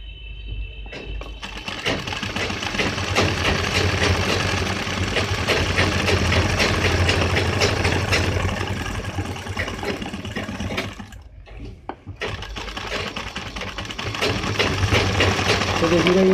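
A sewing machine stitches a suit collar near buckram in a steady, fast mechanical whir. It runs continuously, breaks off briefly near the end, then resumes.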